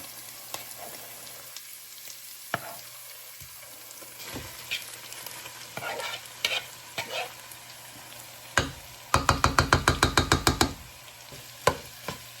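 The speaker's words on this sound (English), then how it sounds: "now we're gonna add in our ground beef" Ground beef starts to fry in a pan with garlic already in it. Scattered clicks and scrapes lead into a quick burst of rhythmic stirring taps near the end, with a low sizzle running quietly underneath.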